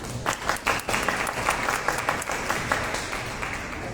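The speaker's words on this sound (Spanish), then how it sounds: "¿Qué tal si nos regalamos un aplauso por eso?" Audience at a book launch event breaking into applause, a crowd of clapping hands with a few distinct sharp claps early on, settling into steady, moderately loud clapping.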